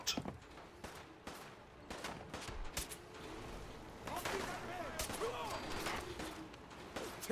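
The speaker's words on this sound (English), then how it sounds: "The cannons are ready. Fire at will." Cannons fire from the USS Constitution in the Fallout 4 video game, a faint series of booms and sharp blasts in quick succession, with some rapid bursts layered over a low background rumble.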